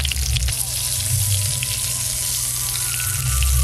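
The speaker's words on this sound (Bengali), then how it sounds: "কড়াতে সর্ষের তেল দেব। তেল গরম হয়ে গেছে, বেগুনগুলো ভালো করে ভেজে নেব।" Brinjal pieces fry in hot mustard oil in a wok, giving a steady, close sizzle over a constant low rumble, with a louder swell of bubbling near the end.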